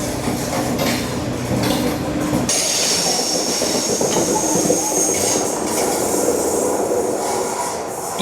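A Paris RER commuter train passing close by at a station, loud rumble and clatter giving way to a high metallic wheel squeal and hiss.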